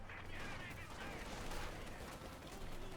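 Distant battle in Company of Heroes 2 with tanks and gunfire, a faint continuous rumble of engines and scattered rapid shots with no clear single blasts.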